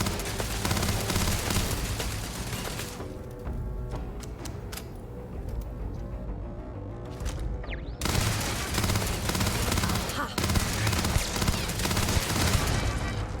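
Turret gunfire in the sci-fi game Starfield, dense rapid bursts with sharp cracks, a thinner stretch midway, then heavy continuous firing again, loud and near.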